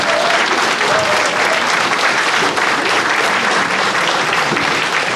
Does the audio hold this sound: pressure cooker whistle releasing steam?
no